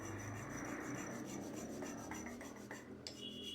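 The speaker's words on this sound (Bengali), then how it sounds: "তো ভোলা বাবার জন্য এখন একটু চন্দন বাটছে।" Sandalwood being ground into paste against a stone, a steady close rasping rub that continues without pause and sounds woody and abrasive, with a few brief higher scrapes near the end.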